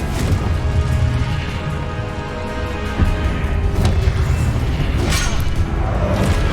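Confringo explosive spell cast repeatedly in the Hogwarts Legacy video game, a loud ongoing barrage of booming blasts and crackling impacts with whooshing bursts layered over dense battle noise.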